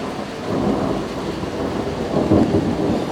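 Thunder rumbling through a heavy storm in Kyrgyzstan's mountains, a deep continuous roll over steady rain that swells loudest near the end, with no voices.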